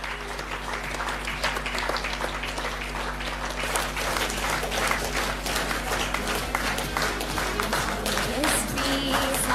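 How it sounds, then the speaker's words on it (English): A crowd at an awards event applauds as an achiever is called on stage, sustained dense clapping that grows fuller partway through, with a low steady hum underneath. "Please give a wide round of applause"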